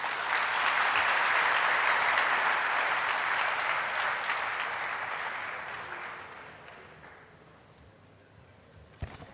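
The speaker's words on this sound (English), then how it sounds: "Can we have a huge round of applause once again, please?" Loud applause from an audience, dense clapping that gradually fades over several seconds, ending with a single sharp knock.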